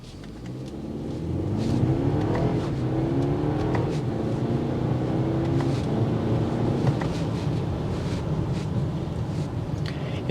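A BMW X3 sDrive30i pulls hard from a standstill, its engine revving up through rising gear sweeps with shifts along the way, loud and continuous inside the cabin over road roar.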